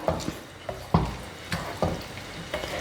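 Pasta tossed and mixed with tomato sauce in a pan, soft sizzling under a series of regular scraping strokes and light knocks of a utensil, close and fairly quiet, no voices.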